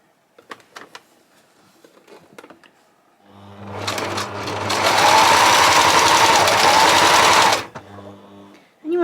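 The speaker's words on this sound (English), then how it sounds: "you want to just try and keep your sewing as straight as you can, really" A sewing machine stitches fabric for a pet bandana in a loud, continuous mechanical run of about four seconds, with a few quieter taps and clicks of handling before and after.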